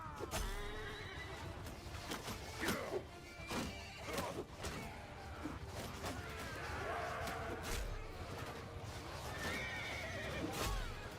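Horses whinny and neigh repeatedly in a Bannerlord battle, several shrill calls spread across the scene amid clattering hooves, thuds and combat noise at moderate loudness.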